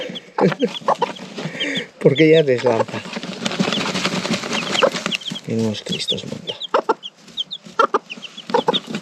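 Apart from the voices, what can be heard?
hen and chicks clucking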